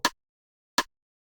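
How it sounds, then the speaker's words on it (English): Snare drum in a simple FL Studio afrobeat pattern, two crisp, bright hits about three quarters of a second apart, dry and isolated with silence between. "So the snare is gonna be a very simple pattern."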